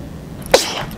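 A single sharp sneeze in the middle of a quiet moment, brief and close, with faint background noise around it.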